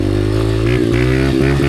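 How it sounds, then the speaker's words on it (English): A Honda dirt bike engine idles loud and close while warming up, its steady throbbing note briefly dipping and catching a few times with short blips of the throttle. "That's how you warm up a Honda."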